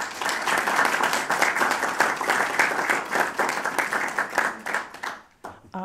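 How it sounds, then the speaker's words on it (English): A conference audience at a session on German unification gives a sustained round of applause, dense clapping filling the room for several seconds before thinning out at the end. "I'd like to give them a round of applause."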